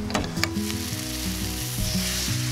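An oyster omelette of blanched oysters and egg poured over batter sizzles loudly in a hot pan, a close, steady crackling fry with a few sharp spatters near the start.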